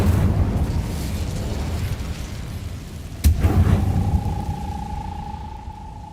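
Incendio fire spell cast in the Hogwarts Legacy video game: a sudden whooshing burst cuts through a steady game rumble, followed by a lingering ringing tone as the effect fades.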